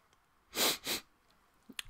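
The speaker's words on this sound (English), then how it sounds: "I've got a bit of a sniffle there" Two quick, close nasal sniffs in a row, with a fainter short sniff a moment later, in an otherwise quiet room.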